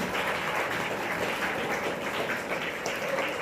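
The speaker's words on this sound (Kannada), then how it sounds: "ಅಭಿನಂದನೆಯನ್ನು ನಿಮ್ಮ ಚಪ್ಪಾಳೆಯ ಮೂಲಕ ಸಲ್ಲಿಸಲಿಕ್ಕೆ ಬಯಸ್ತಾ ಇದ್ದೀನಿ" An audience clapping at a public gathering, a dense, even burst of many hands that runs continuously for a few seconds at moderate loudness.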